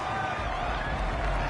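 A constant wash of stadium crowd noise fills an American football video game, loud and steady with a faint murmur of commentary voices underneath.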